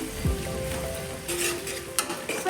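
Chopped garlic, green chillies and ginger frying in a pan for restaurant-style gobi manchurian: a soft, close sizzle with a few light stirring clicks, no voices.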